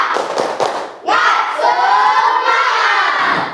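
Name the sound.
class doing a spirit clap chant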